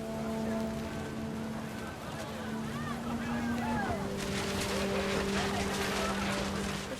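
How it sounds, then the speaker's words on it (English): Heavy rain pours steadily in What Remains of Edith Finch, a dense hiss over a low droning hum and sweeping tones, continuous and fairly loud throughout. "rain came down in buckets then"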